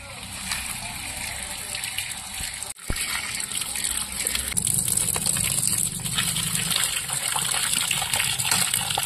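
Running water rinsing katla fish and chicken in a Bengali kitchen, a steady gushing and splashing stream that grows louder midway, with a sharp clunk early on and a voice speaking at times.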